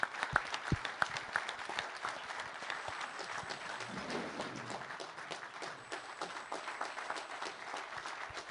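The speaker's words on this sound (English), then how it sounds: "Will you please stand and let all of us give you a warm round of applause?" Sustained audience applause at a World Economic Forum panel discussion in Davos, steady moderately distant clapping from a large crowd filling the whole stretch without a break.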